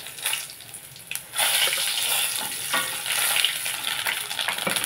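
Urad dal, chana dal, mustard seeds and cumin crackle and sizzle in hot oil for a potato fry tempering, with a sharp burst as they hit the pan and steady spluttering afterward.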